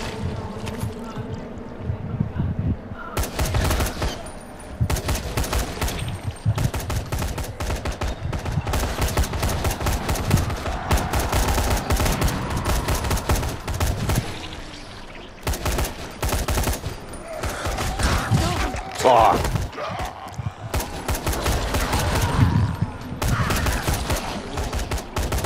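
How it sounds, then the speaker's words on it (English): Two rifles trade fire in a firefight in the video game Dying Light, with dense, loud bursts of rapid gunshots that go on almost without pause through the whole stretch, broken only by brief gaps. "sounds like a whole firefight when two rifles are going off"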